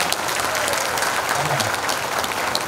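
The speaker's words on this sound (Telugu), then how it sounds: "మీకు కూడా ఆ ఉత్సాహం కావాలి అని అంటే చక్కగా అందరు కూడా ఒకసారి చప్పట్లు కొట్టండి" A large audience at a Sri Narasimha Chaturdashi devotional gathering claps steadily, the dense, even applause filling the room from start to finish with no pause, swelling slightly near the middle, and no one talks over it.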